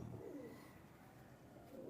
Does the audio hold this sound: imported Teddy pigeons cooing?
yes